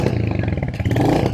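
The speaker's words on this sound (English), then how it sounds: "Absolutely beautiful motorcycle, one of my favorite ones to ride, and we're gonna go take that hot rod for a spin." A Royal Enfield Hunter 350 motorcycle engine roars in a brief, loud, close burst of throaty revving.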